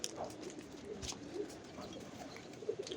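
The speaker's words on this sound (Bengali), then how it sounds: "অনেক কবুতর আছে গাইস।" A flock of pigeons coos softly outdoors in the sun, scattered low calls from several birds rising over quiet background noise, fairly faint and near.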